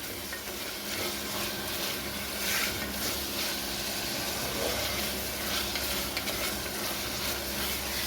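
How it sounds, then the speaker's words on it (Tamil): Mutton liver sautéing in hot oil gives a dense, continuous close sizzle and hiss with soft stirring, steady and unbroken throughout with no talk. "எண்ணெயில் கறி போட்டு வதக்கிக்கிங்க, கறி கரையாது"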